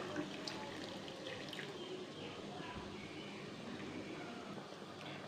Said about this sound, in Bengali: এবার এটার মধ্যে আমি গরম জল দিয়ে দেবো।